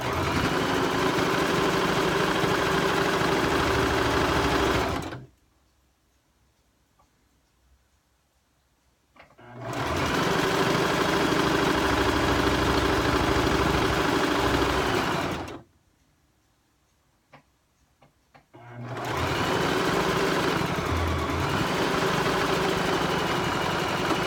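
A sewing machine stitches a small catnip fish toy in three long, steady bursts of loud, close whirring. Brief pauses between the runs are almost silent.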